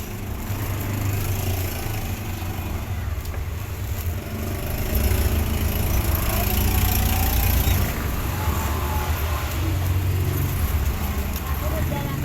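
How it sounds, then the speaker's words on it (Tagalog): Constant loud roar of nearby street traffic, engines droning without a break and swelling slightly midway, filling the background of a home setting; no clear talking. "Kasi maingay talaga dito. Yun lang kalsada."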